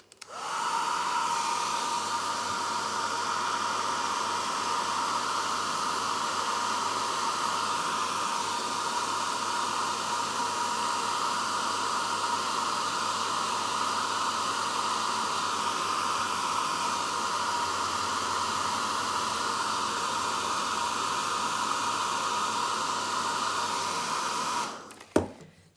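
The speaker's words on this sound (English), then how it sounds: "I'm using the hairdryer on a low heat" A hairdryer on low heat drying crayon coloring runs as a steady, loud whooshing blow for about twenty-five seconds, then clicks off abruptly.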